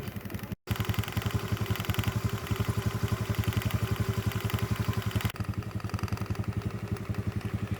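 Motorcycle crossing a river, its engine running steadily at close range with a regular pulsing thrum and some clatter, loud and continuous with a brief drop-out near the start.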